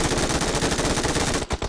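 Rapid automatic gunfire in a video game, a loud continuous burst of shots that breaks off briefly near the end and resumes with a few scattered rounds.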